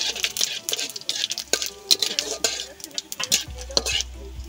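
Cumin seeds and bay leaves stirred in hot oil for a vegetarian lentil dhoka dish, crackling and sizzling with steady bright frying noise, punctuated by a few scraping spoon strokes against the pan, close and fairly loud, with no talking.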